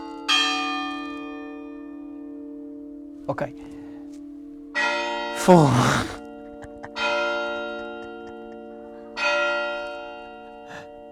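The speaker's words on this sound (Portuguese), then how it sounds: "Desculpem, sinos." Church bells ring out in repeated, resonant strikes that linger and overlap, with a brief spoken word between peals.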